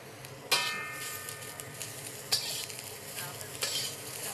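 Vegetables sizzle in a very hot wok on a BlueStar cooktop, a steady crackling fry punctuated by three sharp scraping stirs of the utensil against the wok, close but fairly quiet.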